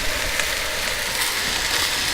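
Beef and flour sizzling in a pot for an Italian beef stew, a steady close frying hiss with no talk.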